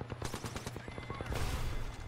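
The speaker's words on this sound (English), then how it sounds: "there's people shooting us from below" Rapid bursts of automatic gunfire in the Apex Legends video game, many quick shots in a rhythmic string that then gives way to a denser wash of firing, moderately loud, with no talk.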